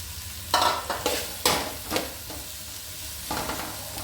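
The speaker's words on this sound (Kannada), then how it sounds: "ಈ ಎಣ್ಣೆಗೆ ಈರುಳ್ಳಿ, ಹಸಿಮೆಣಸಿನ್ಕಾಯಿ ಹಾಕ್ಕೊಳ್ಳಿ, ಫ್ರೈ ಆಗಲಿ ಚೆನ್ನಾಗಿ." Chopped onion and green chili fry in oil in a pan, giving a steady sizzle broken by several scraping stir strokes, close by with no talking.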